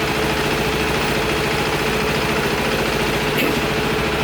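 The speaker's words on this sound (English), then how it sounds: "I loaded up the RC390. I'm going to make some baseline dyno pulls" A KTM RC390 motorcycle engine runs on a dyno in a dense, steady, loud drone, close up and unbroken for a few seconds with no voices.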